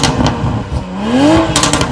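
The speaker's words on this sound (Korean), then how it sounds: "이 차의 배기음을 한번 들어볼 텐데" A BMW 840i Gran Coupe with a stock exhaust, heard close at the tailpipe, revs once with a rising whine and then settles back, followed by a quick burst of sharp crackles and pops.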